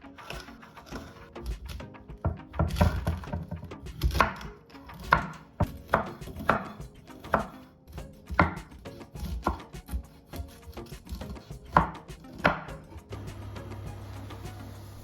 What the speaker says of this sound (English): First, I chop some veggies.